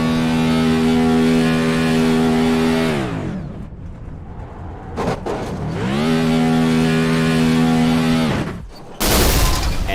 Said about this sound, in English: And it looks like now, burnout might just be concluded.